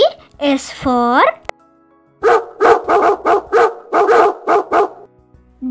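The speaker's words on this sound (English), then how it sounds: "dog sled." Sled dogs bark in a quick, loud series of repeated yaps at close range, after a brief whining, voice-like call at the start.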